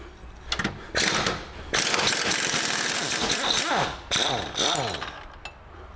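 A ratchet with a 15mm socket works on Land Rover Freelander wishbone bushing bolts, giving close, loud bursts of rapid clicking, some long and steady and some short, separated by brief pauses.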